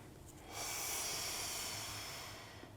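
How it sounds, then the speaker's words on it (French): A long, steady breath is pushed out during a Pilates rotation exercise with a resistance band. It builds after a brief pause and holds as a broad, soft airy hiss for about two seconds, close and alone with no talking. "Et soufflez."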